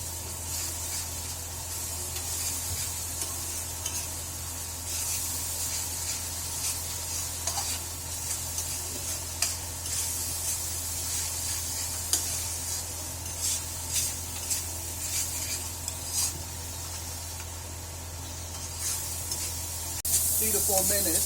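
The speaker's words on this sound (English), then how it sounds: "So the masala goes in, and we now let this cook." A Goan and Punjabi mutton curry masala with tamarind pulp, coconut and Goan vinegar sizzling steadily in the pan, a continuous close hiss and crackle with occasional stirring scrapes.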